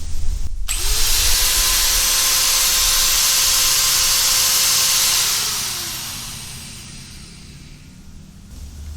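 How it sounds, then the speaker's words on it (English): A heavy-duty hammer drill running off a Jackery HomePower 3600 Plus power station starts abruptly with a loud, steady whining roar that holds for several seconds, then spins down and fades. "Heavy duty hammer drill."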